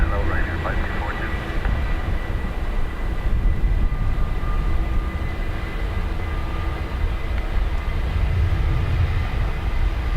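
Ryanair airliner taking off at Dublin Airport, a steady broad engine roar that holds loud and near throughout the whole stretch.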